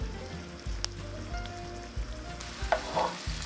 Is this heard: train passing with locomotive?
no